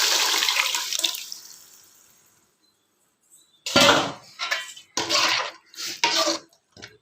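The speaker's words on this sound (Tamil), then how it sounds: "அந்த புளிக்கரசலை இதில் ஊற்றிப்போம்" Tamarind water pours into a pan of sardine fish curry with a loud rushing splash that fades away, followed after a pause by several sharp metallic clanks and scrapes of a utensil against the pan.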